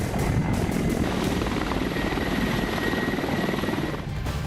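A Russian military helicopter in war news footage, its rotor and engine roaring steadily and loudly throughout, close and unbroken, with no voices over it.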